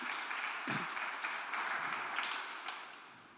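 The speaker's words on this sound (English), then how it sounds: "Maybe give a warm applause to them." Applause from the audience at a conference session, a steady, moderately faint wash of hand claps that carries on for a few seconds and then slowly tapers off.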